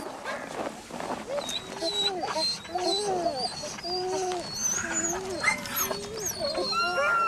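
Sled dogs, huskies training in Lapland, whine and yelp in an excited chorus of rising and falling cries with scattered barks, steady and fairly close throughout.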